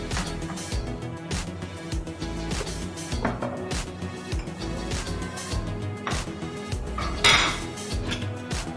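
Metal spatulas clang and chop rapidly on an oiled griddle while cooking taka tak, making loud, close, rhythmic clatter with dense repeated strikes throughout, and no talking.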